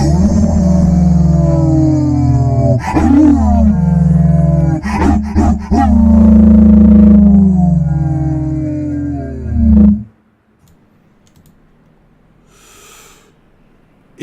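A deep, loud, baleful hound-like baying plays as a sound effect during a tabletop role-playing game, with long swelling howls and snorting breaths before cutting off into near silence.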